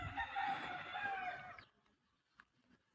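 A single loud crow from an Ongole Berasa-breed fighting rooster rings out close up for over a second, then fades into quiet with faint rustling.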